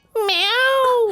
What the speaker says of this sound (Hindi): कौन है? बिल्ली होगी।